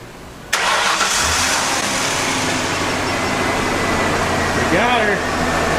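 An older Mercury Mountaineer's engine cranks and fires up with a sudden loud start after a remote start install, then settles into a steady close idle while people talk over it.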